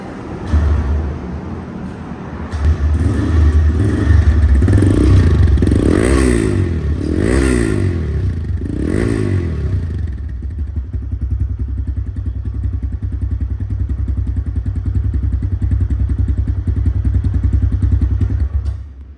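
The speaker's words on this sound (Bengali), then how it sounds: "সাউন্ড কোয়ালিটি শুনলে বুঝতে পারবেন গাড়িটির ইঞ্জিন কেমন আছে" A TVS Raider motorcycle engine runs close by, revving up in several surges before settling into a steady, throbbing idle that continues to the end.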